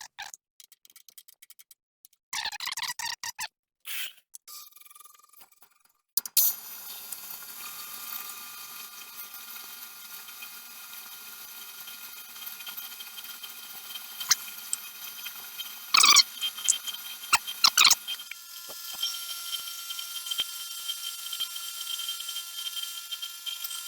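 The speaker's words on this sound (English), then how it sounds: "I'm going to start by cleaning up the whole thing, which I'm going to do with this 2-inch end mill" A milling machine running a 2-inch face mill to clean rust off metal parts on all sides: a few short bursts at first, then a steady whine with ticking and clicking of the cut and occasional sharper hits.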